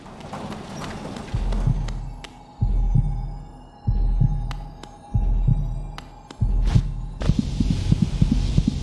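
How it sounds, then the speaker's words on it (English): Five heavy, slow heartbeat thumps pulse one after another in Hollow Knight, each a deep low throb over a steady hum, followed by a brighter swelling game effect at the end. "Oh my god, heartbeat."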